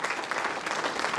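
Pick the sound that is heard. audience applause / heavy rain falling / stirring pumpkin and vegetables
audience applause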